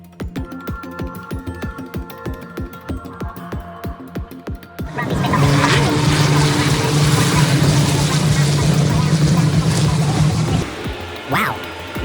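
Racing truck engines at the 2023 Convoy in the Park truck race throb rhythmically at first, then surge into a loud, sustained roar that drops away near the end.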